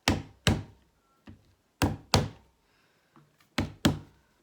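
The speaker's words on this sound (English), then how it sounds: "we're going to bang it here and bang it here to try and get a roof shape" A lump of clay being banged down on a hard surface to form a roof shape for a small clay house, eight sharp dull thumps in irregular pairs, close and fairly loud, with quiet gaps between.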